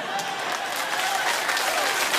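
A late-night talk show studio audience breaks into loud, dense applause that holds steady throughout, close and full with no pauses.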